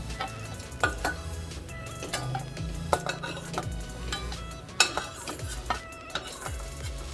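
Busy pan-frying noise as cashews fry: steady sizzle with a spoon stirring and scraping the pan, clinks and knocks of metal recurring throughout, close by.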